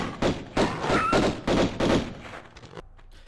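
Gunshots from Lara Croft's pistols in the remastered Tomb Raider game, a quick run of about five thumping shots in steady rhythm with a trailing echo, fairly loud, ending in quieter game ambience.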